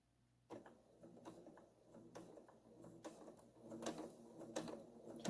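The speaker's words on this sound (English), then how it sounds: "you're going to come across and top stitch" A sewing machine top stitches a triangle zipper bag, giving faint, quiet, irregular bursts of mechanical ticking and whirring close by, with no one speaking.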